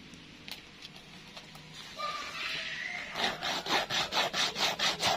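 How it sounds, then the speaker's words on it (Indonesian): A sengon (Schizolobium amazonicum) seed tip rubbed on sandpaper, heard as a quiet few scratches and then a rapid rhythmic series of about ten close, rasping back-and-forth strokes. "Jadi pucuknya ini digosok ke amplas."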